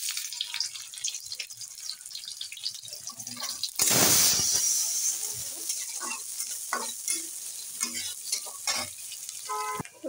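Onions hit a hot pan and burst into a loud sizzle partway through, then keep frying steadily under scraping and stirring sounds.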